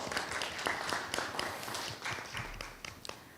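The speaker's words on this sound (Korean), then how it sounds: "다시 한번 큰 박수 부탁드립니다." Scattered applause from a small gathering at an online results-sharing event, with sparse, uneven claps at moderate distance, continuing fairly steadily with no talking over it.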